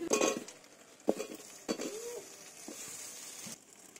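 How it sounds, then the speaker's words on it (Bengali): Potatoes tip into spice paste frying in a pan with a few quick clatters and clinks of utensils against the pan, followed by a soft, faint sizzle. "এরপর আলুগুলো ঢেলে দেবো।"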